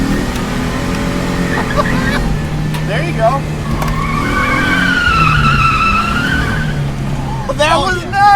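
A car drifting at a track day with tires skidding and squealing in long wavering screeches over a steady engine drone, with people talking nearby throughout.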